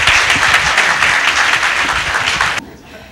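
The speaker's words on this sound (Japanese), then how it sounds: "拍手でお願いします。" A studio audience at a televised mahjong tournament final applauds, a loud, dense wash of steady clapping that holds for about two and a half seconds before cutting off sharply into quieter room sound.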